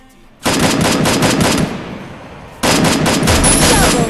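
Automatic gunfire in the Free Fire battle royale game as a headshot lands: a loud, dense burst lasting over a second, a short lull, then a second sustained burst of rapid shots, close and dominant.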